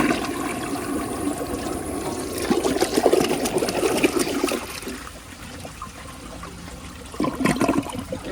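A 1983 Gerber Mt Vernon toilet flushes with a steady rush of water that swells, then trails into gurgling siphon and trickling refill, with a short surge of water near the end. No voices are heard.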